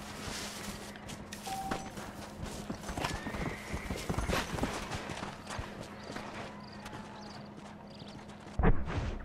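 Rhythmic clip-clop of horse hooves in the Western video game Red Dead Redemption, set in the town of Armadillo, steady and fairly faint under a low hum, with a neigh and a brief louder thump near the end.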